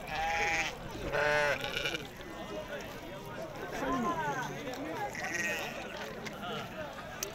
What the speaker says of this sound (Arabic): تبارك الله خروف